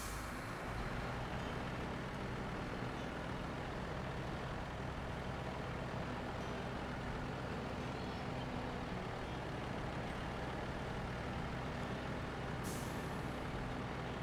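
Heavy truck grinding along in SnowRunner, a steady dense engine drone filling the whole stretch with a brief hiss near the end, no talking.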